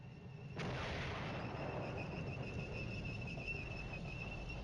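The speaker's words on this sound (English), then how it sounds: "Grafenwohr has been properly bombarded." Artillery bombarding Grafenwohr in the Cold War wargame Flashpoint Campaigns, one sudden boom followed by a sustained low rumbling roar of shelling that holds steady for several seconds, with no talk.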